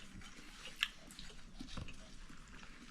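Vegetables being chewed during a meal, faint soft crunching and mouth sounds with a brief sharper bite in the middle, quiet and close with no talking.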